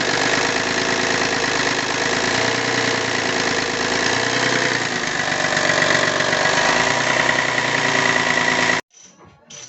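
A Mercedes 190 engine runs steadily at slightly raised revs while the car is checked for a knock, a loud continuous mechanical drone close by that cuts off abruptly near the end.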